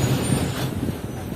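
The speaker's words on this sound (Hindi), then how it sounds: "और ये रुक गई हमारी ट्रेन" A Shah Latif Express passenger train rolls to a halt at a small station platform, a steady low rumble of braking and wheel noise holding at moderate loudness throughout.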